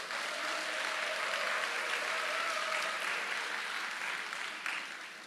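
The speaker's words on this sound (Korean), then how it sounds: "제가 행복해 보인다는 것에 박수를 친 것입니까?" A congregation at a medical mission conference claps steadily for a speaker, a soft, even patter of many hands that fades slightly toward the end.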